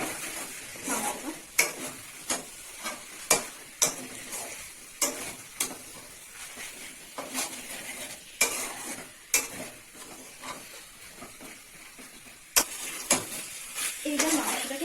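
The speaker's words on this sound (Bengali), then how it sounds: "এভাবে নাড়তে থাকবো মাংসটা।" Chicken meat for chicken kosha stirred and fried in a pan, with a steady sizzle broken by frequent sharp scrapes and clacks of the spoon against the pan, close and fairly loud, no voices.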